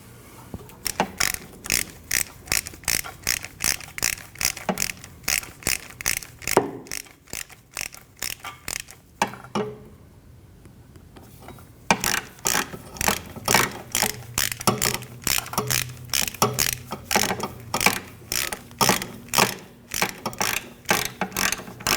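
Ratchet cranking driveshaft bolts on a 2013-2019 Ford Escape, a long run of rapid, evenly spaced clicks up close, pausing briefly midway before resuming at the same brisk pace.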